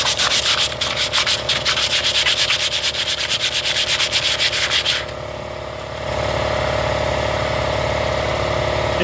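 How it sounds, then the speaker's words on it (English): Fine sandpaper rubs back and forth in quick rhythmic strokes for about five seconds, loud and close, over a steady idling engine hum that carries on alone after the sanding stops. "you want to take some fine sandpaper, kind of like this, and then you want to go over that little bit that's sticking left to the body"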